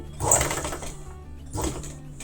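A sewing machine stitches a small tuck on a reversible cloth cover for a plate, running as a steady close whir for the whole stretch with a brief swell near the end.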